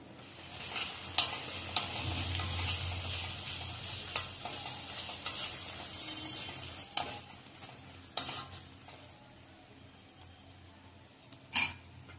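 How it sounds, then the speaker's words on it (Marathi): A paste of ginger, garlic, garam masala, tomato and onion sautéed in a pan for mixed vegetable bhaji, steady sizzling with repeated scraping stirs and sharp spoon clinks against the pan, no speech. "छान परतून घ्यायचा मसाला"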